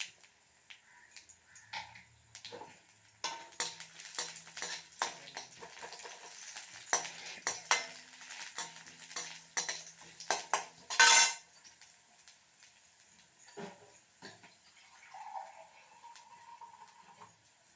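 Garlic, chili, chana dal and urad dal fry in a pan for spinach poriyal, with a spoon scraping and clinking against the metal over a soft sizzle in irregular bursts, and no one speaking.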